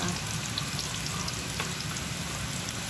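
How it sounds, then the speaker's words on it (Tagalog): Steady, continuous sizzling from ingredients sautéing in a pan for batsoy, close and even in volume with no talk over it. "Basta, gisa-gisa lang yan."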